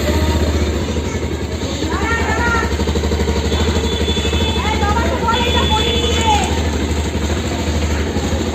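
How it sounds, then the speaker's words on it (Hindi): A Sonalika Tiger DI-50 tractor engine... no—a motorbike engine on its first start of the morning settles into a steady, close idle with a low rumbling chug, while a voice talks briefly over it. "तो अभी बाइक को निकाल लिया है और सुबह का पहला स्टार्ट।"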